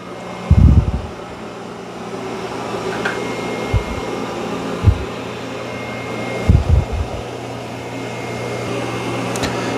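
A robot vacuum cleaner cleans carpet with its mop pads raised, giving off a steady whirring drone with a few soft low thumps as it moves; no one speaks.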